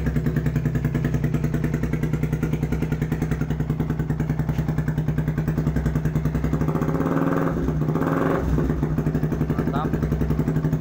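A Yamaha R15 V2 fitted with a racing exhaust idles at low RPM in a steady, throbbing burble heard up close, and someone speaks over it.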